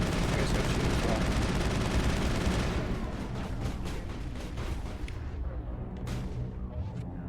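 Gunfire in the video game Mass Effect, a dense, loud continuous barrage of shots and blasts that thins out after a few seconds into scattered, lighter bursts.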